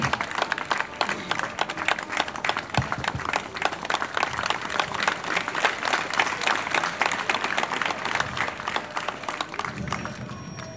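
A crowd at a BJP intellectuals' gathering on the Lions School ground in Dadra and Nagar Haveli claps steadily for over ten seconds, a dense, even roar of applause at moderate distance.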